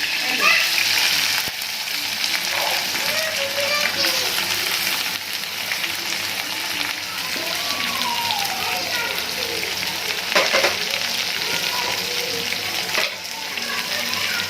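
Onions fry with dried red chilies and curry leaves in a pan, giving a steady, close sizzle throughout while a voice talks intermittently over it.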